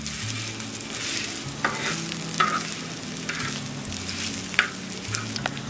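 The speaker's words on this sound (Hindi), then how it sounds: "अभी हम कम तेल में तल रहे हैं ना, इसलिए हम दो दो ही सीख तलेंगे तवे पे।" Mutton seekh kebabs shallow-fry in a little oil on a tawa over medium flame, giving a steady moderate sizzle with occasional soft stirring knocks and small pops, no voices.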